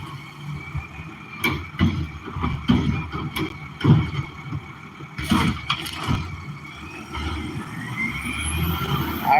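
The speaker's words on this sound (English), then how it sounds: "the trash man's going to be pulling up out front here in a second" A small garbage truck pulls up outside, its engine rumbling and shifting with bursts of mechanical clatter and brake hiss, moderately loud and heard from indoors without talk.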